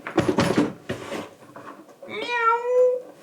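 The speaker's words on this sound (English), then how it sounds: "here we have an actual cat, Mochi cat, Mochi cat." A domestic cat lets out one drawn-out, rising meow near the end, after a few seconds of rustling and muffled voice sounds.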